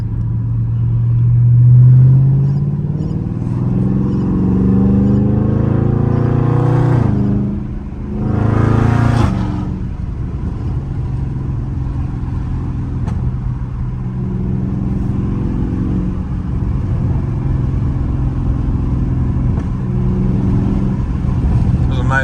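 A Dodge Scat Pack car threads through busy traffic, its engine a steady low rumble with a couple of swelling rev surges and passing vehicle noise, while a person talks over it at times.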